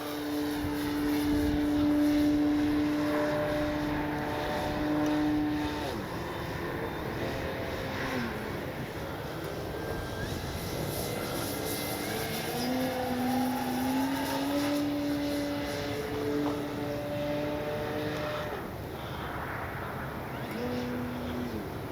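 A Hangar 9 J-3 Cub radio-controlled plane with a 10cc engine flies overhead, its steady droning buzz rising and falling in pitch as it passes, loud and continuous throughout.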